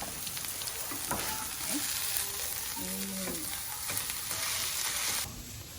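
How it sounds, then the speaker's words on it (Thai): Food sizzles steadily in hot oil, a dense crackling hiss with a few stirring scrapes, before the sizzle drops away near the end. "ต้องปล่อยให้มันทอดใส่น้ำมันเพิ่ม มันจะทอดไปของมันเรื่อยๆเลย"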